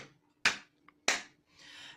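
Children clap their hands during a kindergarten speech-development lesson, giving two sharp, separate claps in an otherwise quiet room.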